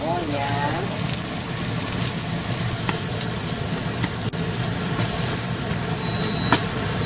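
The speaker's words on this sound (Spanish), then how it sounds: "Y aquí en el sartén vamos a poner mantequilla. Vamos a poner la cebolla." Onion fries in butter in a pan, producing a steady, close crackling sizzle that holds at an even level throughout, with a few faint clinks of utensils.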